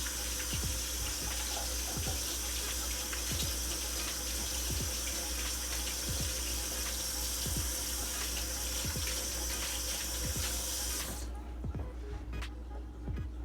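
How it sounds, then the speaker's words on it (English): A sausage grinder plate rinsed under a running kitchen tap, a steady close water rush with small repeated knocks and clinks of metal, the flow cutting off near the end. "Let me rinse it off so I can show you."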